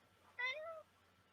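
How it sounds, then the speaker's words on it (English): A big male house cat gives a single clear meow, close and fairly loud, lasting under half a second before the room falls quiet again. "Got my cat here."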